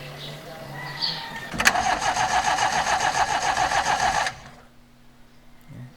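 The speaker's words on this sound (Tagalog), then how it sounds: "And crank muna natin ulit yung engine guys." A Toyota Corolla XE engine cranks loudly under the starter for about three seconds in a steady rapid chugging rhythm, fuel pump just replaced, then it stops, leaving a low hum and a faint voice.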